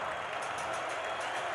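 A North Dakota State Bison football crowd roars at a game against Southern Illinois as a steady, wide wash of cheering noise with a few faint claps, held at an even level for under two seconds.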